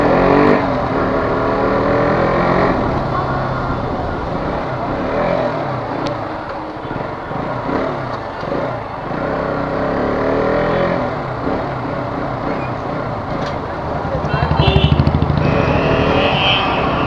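A new KTM RC 125 motorcycle engine runs close by, its throttle blipped repeatedly so the rough roar rises and falls, with one stronger rev near the end.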